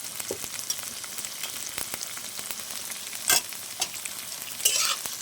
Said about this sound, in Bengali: দিয়ে আমি আবার ভালো করে নেড়ে চেড়ে নেবো।